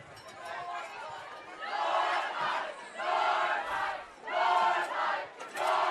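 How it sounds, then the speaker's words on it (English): A high school football crowd at a night game cheers and chatters in loud, repeated swells, with the voices of many spectators rising and falling in waves across the stands. "North High crowd getting up for things here"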